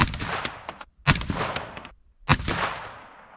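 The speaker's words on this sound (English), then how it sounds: "We'll do 3 shots." Three loud rifle shots fired at a black square target on a slanted range, each a sharp crack followed by a long rolling echo and decay, spaced about a second apart.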